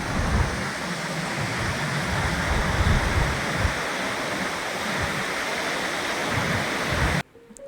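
A mountain river rushes loudly along the Hampta Pass trek, a dense, close roar of churning water that holds steady throughout, then cuts off abruptly near the end.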